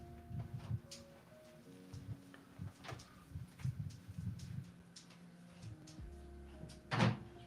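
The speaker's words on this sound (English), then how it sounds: "I'm opening the door and closing the door" An indoor door being opened and closed several times, with soft knocks, latch clicks and a sharper thud near the end, under a low steady hum and faint background voices.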